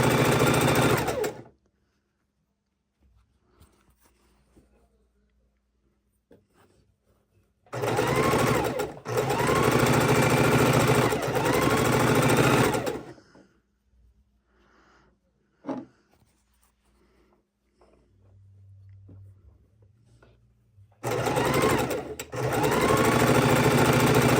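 A sewing machine stitches precut quilt pieces at a sewing table in loud, steady runs of several seconds each, separated by quiet pauses, three bursts in all.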